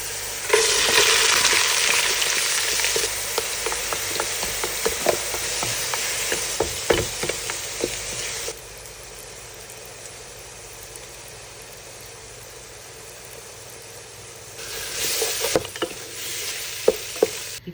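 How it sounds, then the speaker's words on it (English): Onion, ginger and garlic sizzle steadily in a hot pan as the base for a lamb Rogan Josh, loud and close at first, then quieter, with scattered stirring clicks and a burst of stronger frying near the end. "We start the pan with onion"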